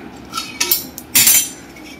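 A spoon or spatula clinking and scraping against a metal pan while dry fruits and dried coconut are stirred together, three or four sharp close metallic strokes, no talk.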